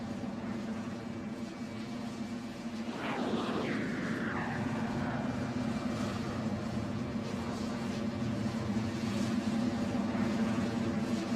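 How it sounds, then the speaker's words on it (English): A Eurofighter Typhoon FGR Mark IV multi-role combat jet performs at an airshow. A loud, steady jet roar holds throughout, and a sweeping pitch shift near the three-second mark suggests a fast pass overhead. "The aircraft he is flying is the Typhoon FGR Mark IV, which is a highly capable and extremely agile multi-role combat aircraft"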